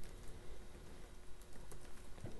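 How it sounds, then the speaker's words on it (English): Fingers type on a computer keyboard while entering a command for a C++ program, producing faint, close, irregular key clicks against a quiet room background. "So I'm going to type system,"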